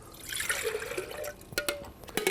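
Two standard cups of water pour from a measuring glass into a coffee maker's reservoir, a close trickling and splashing stream ending in a few drips and light clunks.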